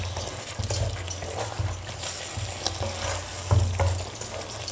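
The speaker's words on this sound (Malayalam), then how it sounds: "പതുക്കെ മിക്സ് ചെയ്ത് കൊടുക്കുക." Chicken curry frying in a pan as it is stirred slowly, with a steady close sizzle and repeated scraping, knocking strokes of the spoon against the pan throughout.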